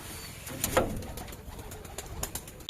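Soft coos of Madras pigeons and their chicks sound nearby, with a brief flutter and light background noise.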